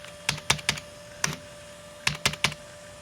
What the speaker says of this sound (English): Just keep hammering buttons until it does something.